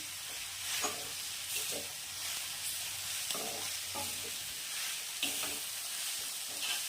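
A spatula stirs moringa flower vegetable in a hot pan, soft scraping strokes repeating over a steady low sizzle, close and fairly quiet with no talking.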